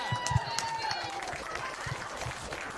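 Studio audience applauding and cheering for Buzzer Boy at a wrestling game show, a short burst of clapping and crowd noise under an excited host's voice.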